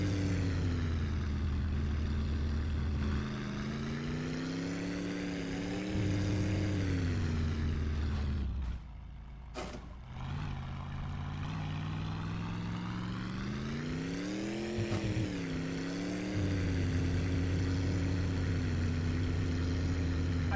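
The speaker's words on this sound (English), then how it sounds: "I have burned almost an entire tank of fuel today in this tractor." A tractor engine in a video game drones steadily and loud throughout, its pitch rising and falling as it revs, with a brief dip and a sharp click near the middle before the engine picks up again.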